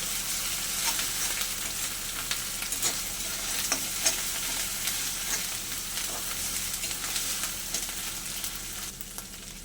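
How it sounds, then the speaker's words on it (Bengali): Onion, ginger and garlic paste sizzling and frying in a pan for a prawn curry, a steady close hiss with occasional scraping stirs, continuous throughout with no talking. "আদা রসুন পেঁয়াজ আরও আমি দু পাঁচ মিনিট ভাজা ভাজা করে নেব"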